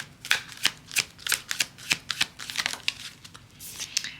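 Tarot cards are shuffled in a quick, steady run of crisp riffling flicks, close and fairly loud, with no voices over them.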